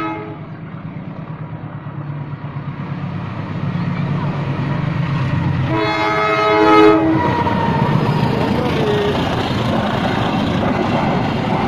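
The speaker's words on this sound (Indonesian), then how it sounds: "Dengan lokomotif CC01879213 Depo Induk Cipinang." A freight train hauled by a CC-class locomotive from the Cipinang depot rumbles past steadily, its horn sounding a loud sustained blast midway through the pass.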